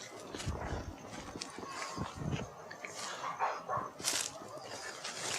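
A dog barking outdoors at night near an old house, with several irregular barks scattered over steady background noise, fairly close and moderately loud, and faint voices now and then.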